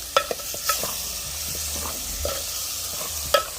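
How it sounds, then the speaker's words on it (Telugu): Boiled mutton pieces stirred in a frying pan, with soft continuous sizzling broken by a few sharp scrapes and clinks of the spoon against the pan, close by and with no talking. "ముందుగా ఉడకబెట్టుకున్న మటన్ ముక్కలు వేసుకొని బాగా కలిపి వేసుకోవాలి."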